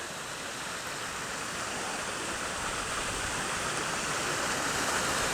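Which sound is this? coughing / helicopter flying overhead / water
water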